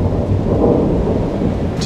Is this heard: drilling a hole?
no